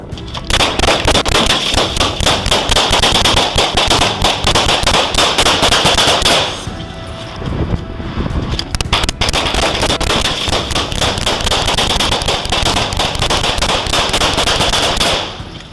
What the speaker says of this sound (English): Shots rang out in broad daylight, and Officer Sally went down after being hit